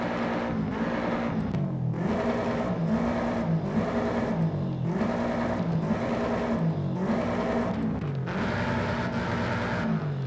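A Subaru STI in Forza Horizon 5 revs its exhaust repeatedly, loud and close, with about six evenly spaced rising bursts and a steady rumbling engine note between them, no voices.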